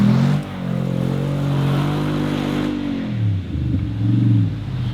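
Nissan Y62 four-wheel drive revving hard to climb a sandy bank, a loud, close engine roar that swells and dips with the throttle, the pitch falling toward the end as it eases off.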